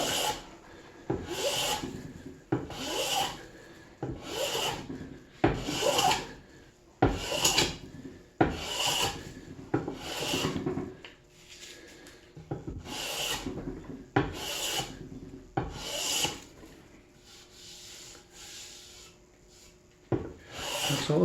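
Small Bailey hand plane taking finishing strokes across a timber-framed table base to remove planer marks, each pass a close raspy zipper-like swish, repeated in a steady rhythm of roughly a dozen strokes with brief pauses between.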